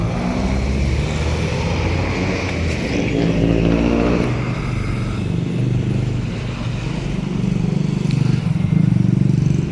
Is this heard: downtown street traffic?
yes